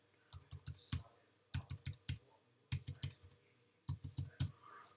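Quiet bursts of rapid computer keyboard typing come in four short clusters of keystrokes separated by brief pauses, close and crisp against a faint background hum.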